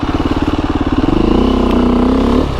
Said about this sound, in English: now I can enjoy riding a dirt bike, being on the trail, being in the woods